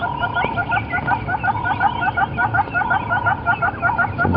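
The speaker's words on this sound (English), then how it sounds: "A little territorial call that he's making there." Red-billed hornbill giving a territorial call on a sunrise safari drive, a steady run of repeated clucking notes in a quick rhythm, moderately loud over a background of engine hum and other birds.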